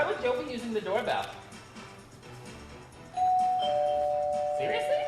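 A two-tone doorbell chimes once, ringing out clearly after a stretch of muffled voices and room noise.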